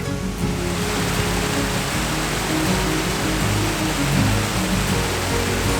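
A waterfall pours over wet rocks in a steady, full-bodied roar of rushing water that stays close and unbroken throughout, with no voices.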